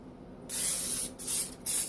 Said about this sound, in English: Spray it with nonstick spray.